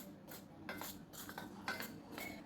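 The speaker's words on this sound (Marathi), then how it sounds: "चमच्याच्या साहाय्याने आपण हे मिक्स करून घेऊया" A spoon stirs grated potato and spices in a metal bowl for a Marathi bhujia sev recipe, giving soft, irregular clinks and scrapes in quiet bursts with no talk.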